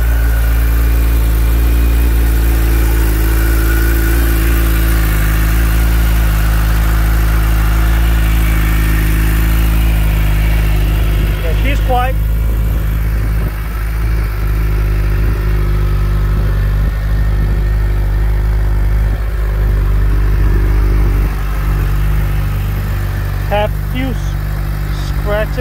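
A 2023 Suzuki Hayabusa ABS sportbike engine idling steadily, a loud low even rumble close by throughout, with a few faint clicks near the end.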